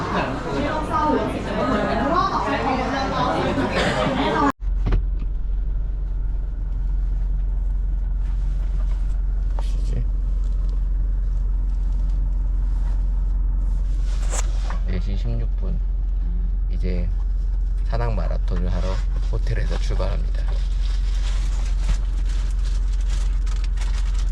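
A steady low rumble from inside a car being driven to the start line of a mountain trail marathon in Rayong, Thailand, under continuous conversation and chatter.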